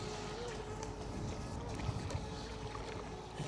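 A Volantex Vector 30 mini RC boat buzzes continuously at full throttle, a thin steady whine over wind rumble and choppy water.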